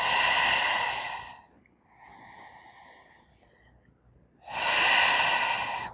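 Deep breathing during a back- and pelvic-floor-protecting yoga stretch: a long, loud, airy breath, a quieter soft stretch, then another strong breath, all close and with no talking.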